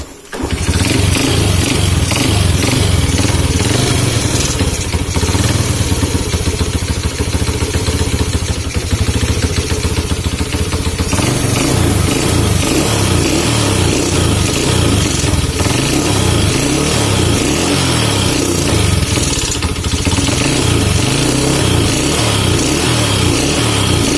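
Honda C70 motorcycle engine with a modified, lowered piston starting and running: a loud, close, steady single-cylinder chug that shifts slightly in pitch around the middle and continues without talk.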